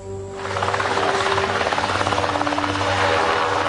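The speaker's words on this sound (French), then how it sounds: "Les premiers hélicoptères décollent pour tenter de localiser l'épave." Military helicopters of the Colombian air force lift off for a crash search, loud and near, the rotor's rapid rhythmic thumping building quickly and staying steady beneath a whining turbine.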